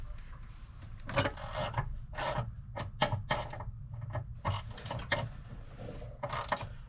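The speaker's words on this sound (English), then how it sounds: "Watch this ratchet." Ratchet with a deep socket being worked on a Subaru, a series of close, sharp clicking bursts in irregular spurts with short pauses between them over a quiet background.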